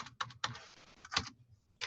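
Someone types a web address on a computer keyboard, a quick uneven run of close, crisp key clicks with brief gaps between them.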